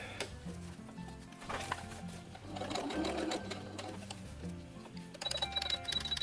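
A sewing machine runs in a steady, close-up whirring rhythm as it stitches a zipper into a Star Wars–style jumpsuit. It speeds up and slows at times, and there is a light mechanical click near the end.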